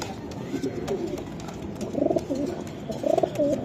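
Racer and Sherazi pigeons at a pigeon market coo in soft, low, rolling bursts, a couple of distinct coos standing out near the end against a murmuring background.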